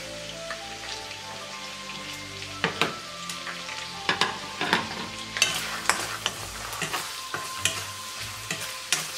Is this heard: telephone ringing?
no